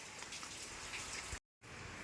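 Steady rain patters in an even, soft wash that cuts out to silence for a moment before resuming.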